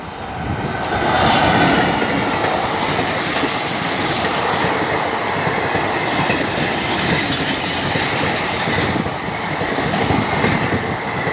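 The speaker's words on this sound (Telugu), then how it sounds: "Amaravati super fast express Vasco da Gama Howrah Howrah వెళ్తుంది" The Amaravati Superfast Express, Vasco da Gama to Howrah, hauled by an electric locomotive, rumbles past close by, a loud sustained roar of wheels and carriages that holds steady throughout with no voices.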